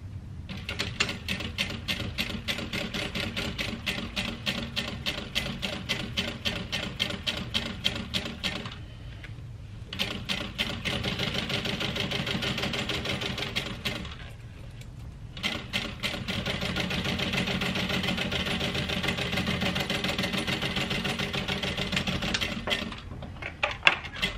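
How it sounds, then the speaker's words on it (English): A sewing machine top stitches a handbag seam in fast, steady mechanical runs. It stops twice for short pauses and then continues, close and clear, with no talking. "And then just top stitch them with the seam facing up over."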